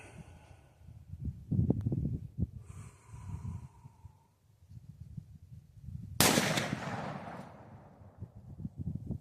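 A .308 rifle shot from a Savage 110 at an outdoor range, a single loud sharp crack with a decaying tail amid breathing and handling noise.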